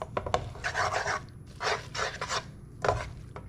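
Flavor seasoning and a little chili sauce being stirred together in a pan with little oil, heard as close, irregular scraping and rubbing strokes in several short bursts, with no talk over them.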